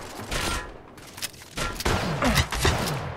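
Gunfire in Apex Legends: several overlapping volleys of shots, loud and close, with bursts firing in irregular clusters over a few seconds and no talk.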